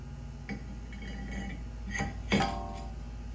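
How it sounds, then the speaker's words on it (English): A new brake rotor fitted onto the hub of a lifted Jeep Wrangler gives a few sharp metallic clinks and taps with light scraping between them, close and fairly quiet against a low background hum. "And now we can put the new rotor on."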